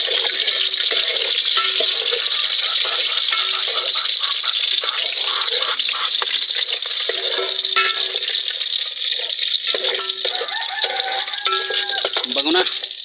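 Garlic fries in a hot pan with a loud, dense, continuous sizzle and bubbling hiss, close up, with a voice speaking over it.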